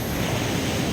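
Sea waves wash steadily onto the shore at Sipalay beach in Negros Occidental, a continuous close hiss and rumble of surf with no voices.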